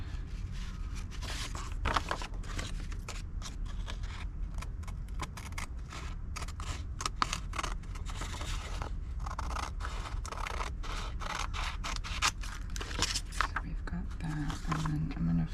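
Scissors snipping through book pages for blackout poetry, a steady run of close, crisp cuts and paper rustles, with a voice talking at intervals over them.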